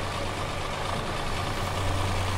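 An old tractor engine in a survival roleplay video game runs steadily at idle, a low continuous drone with a strong bass hum, loud and close, with no talk over it.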